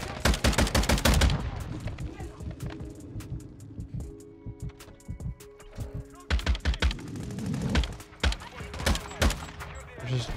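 Lachmann 762 rifle in Modern Warfare 2 firing in dense, rapid automatic bursts, loud and close, with a quieter pause in the middle before more sustained volleys.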